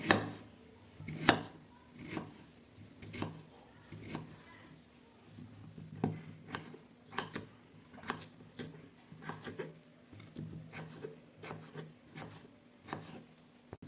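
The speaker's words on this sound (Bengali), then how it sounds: "এবার আমি আলুটাকে ঠিক সরু সরু করে ওইভাবেই কেটে নেব" A knife chops potatoes into thin strips on a wooden board, giving a steady series of crisp, close thuds with short pauses between bursts, and no voices.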